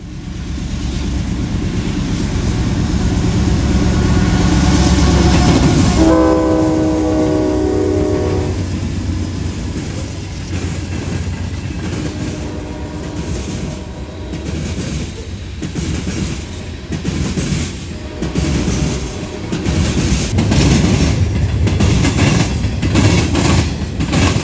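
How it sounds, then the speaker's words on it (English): Norfolk Southern freight train 179, 242 cars long, speeds west under a Conrail signal bridge in London, Ohio, a loud close rumble of wheels and rail clatter with a sustained horn blast partway through. "we see NS train 179 speeding along under the Conrail signal bridge, heading west towards Cincinnati"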